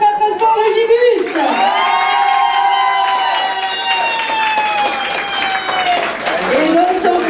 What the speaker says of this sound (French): vous pouvez les applaudir très très fort